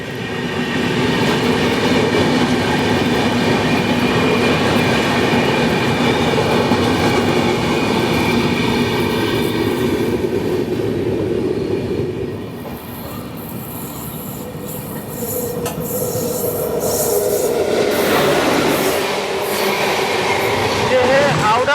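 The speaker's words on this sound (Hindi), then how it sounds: "ये जनशताब्दी एक्सप्रेस देखिए प्रॉपर लिवरी में" A Jan Shatabdi Express in uniform livery rolls past on an Indian railway line, a loud, steady close roar of coach wheels with rhythmic clatter, easing briefly before wheel squeal and rushing noise build again near the end.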